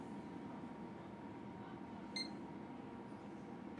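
A single short electronic POST beep from a newly built PC, faint and brief over a steady low hum of fans in a quiet room.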